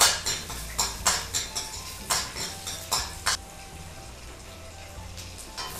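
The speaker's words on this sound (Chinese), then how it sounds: "底油哎，这个蒜片儿炒一下" Sliced garlic is stir-fried in a wok with a little oil, the spatula knocking and scraping against the metal in a quick irregular run for about three seconds, then settling into a faint sizzle.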